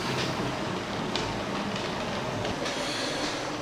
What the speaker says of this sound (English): I'll just have the last few minutes of just some trains running on the top section.